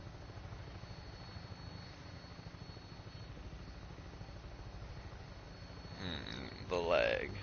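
Aircraft on final approach to an airport in Fallout 4, a steady low engine drone throughout, with a voice talking briefly near the end.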